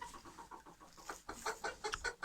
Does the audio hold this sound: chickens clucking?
yes